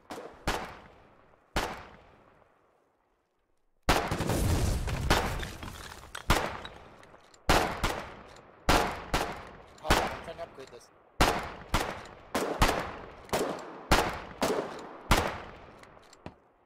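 Gunfire in the war game Foxhole: a couple of sharp shots, a brief lull, then a long series of loud, evenly spaced heavy reports, each ringing out with a decaying tail, close and prominent.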